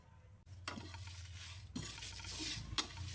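Cumin, chilli, fennel and fenugreek dry roast in a pan, with soft scraping stirs, a couple of sharp knocks against the metal and a faint rustling rattle of seeds.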